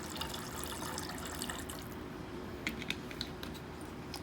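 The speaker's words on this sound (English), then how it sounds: "next we're going to do 6 ounces of the Pilar Blonde rum" Pilar Blonde rum poured for a painkiller cocktail, a quiet, steady liquid trickle with a few small clicks and taps toward the end, close but faint.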